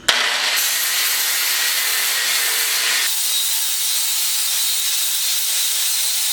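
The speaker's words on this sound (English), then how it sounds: "So now I'm going to hit it with a 60 grit flat disc, try to smooth it out and make sure I got everything clean." Angle grinder fitted with a 60 grit flat disc smoothing steel for a Damascus chef knife, making a loud continuous abrasive hiss and grind that drops in pitch partway through as the load changes.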